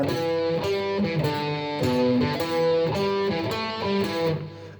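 A distorted electric guitar plays a slow, deliberate riff of repeated picked notes, sustained and steady throughout.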